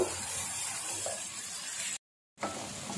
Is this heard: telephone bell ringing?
no